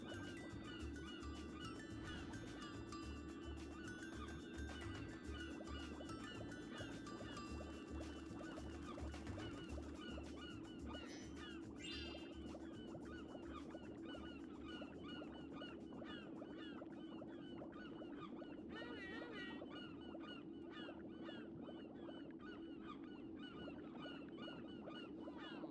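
Honking birds call repeatedly in the Spyro: Enter the Dragonfly video game, a steady chorus of quacks and honks layered over continuous game ambience and music, fairly faint throughout.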